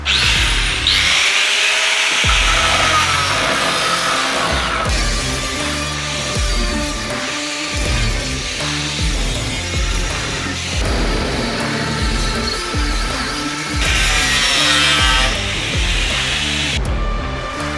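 A power tool cuts steadily through a car's metal floor pan in a loud, continuous grinding whine, with brief dips and restarts as the blade works through the sheet metal up close.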